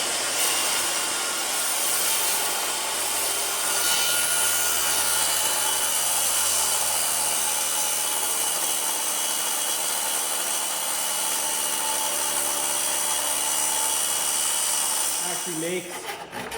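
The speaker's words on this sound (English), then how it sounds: "So just a skill saw with a fancy Diablo blade, huh?" A skill saw fitted with a Diablo blade cuts through a Kenworth truck frame, a loud continuous high metallic scream that holds steady for about fifteen seconds before winding down, with a voice speaking over it.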